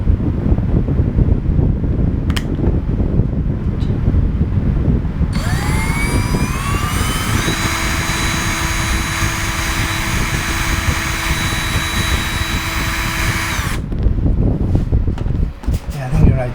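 A power drill bores a hole in wood slats braced on a 2x4 for a farmhouse kitchen light fixture, whining steadily for several seconds over loud background rumble and noise before stopping.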